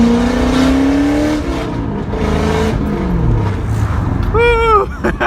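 A 1UZ-FE V8-swapped Mk2 Toyota Supra accelerates loudly up close, the engine note climbing steadily through the gears, with a sharp high squeal near the end and voices talking over it.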